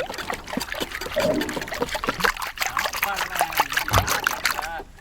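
Liquid, including beaten egg, poured in small splashy trickles into a dish while making a caramel bread pudding cake in a village kitchen, with clinks and dribbles heard under ongoing talk.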